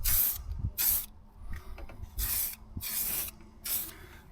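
Paint is sprayed onto a Ford Transit sill in five short bursts of hissing spray, separated by quiet gaps with faint mechanical clicks; no talking.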